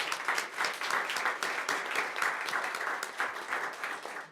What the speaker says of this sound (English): So let's give all of them one more round of applause.